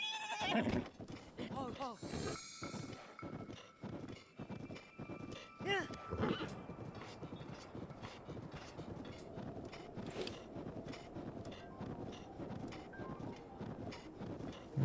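In the video game The Legend of Zelda: Breath of the Wild, several horse whinnies and snorts come early on, followed by rhythmic hoofbeats, with a voice talking over parts of it.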